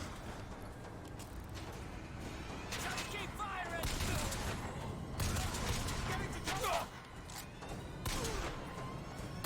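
Machine gun turrets in BioShock Infinite fire in repeated bursts of gunfire that swell and fade across the clip, with loud clattering volleys mixed into a busy game soundscape of impacts and mechanical noise.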